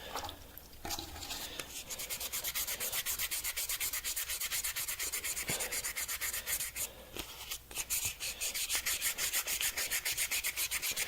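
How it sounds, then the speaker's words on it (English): Rapid, steady back-and-forth rasping of sandpaper on wood, close and continuous with brief pauses in the stroke rhythm. "hand sanding?"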